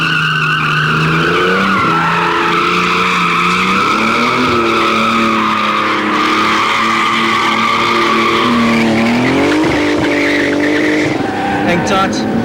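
A Sportech-tuned BMW E46 330i turbo accelerates hard in second gear, its engine roaring loudly and continuously with rising and falling pitch and a sustained high tire squeal heard from the cockpit.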